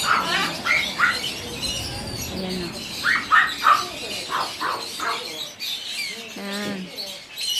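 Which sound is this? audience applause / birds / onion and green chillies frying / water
birds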